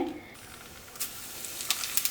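Hot oil hisses and sizzles steadily with a cumin and chili tempering, broken by a few sharp crackles and spits toward the end, close by with no talking.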